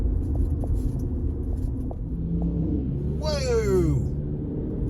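A truck rumbles past on a city street in Greensboro, North Carolina, a low steady engine drone with a rising whine near the end, while someone exclaims over it.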